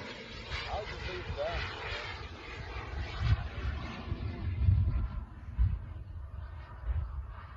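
A small airplane with its landing gear down drones overhead, slow and steady at moderate distance, its engine tone slowly fading, with people talking outdoors nearby.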